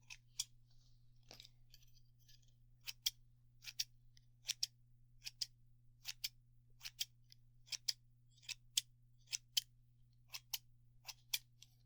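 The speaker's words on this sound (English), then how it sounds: "these scissors are getting old. They're getting a little hard to open and close" Old, stiff scissors snip open and shut again and again in crisp, close clicks at an uneven pace, over a faint steady hum.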